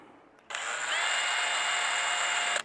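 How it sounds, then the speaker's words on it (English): A power drill with a 7/64 bit starts up and whirs steadily at high speed for a couple of seconds, close and loud, then stops. "we're going to get our drill"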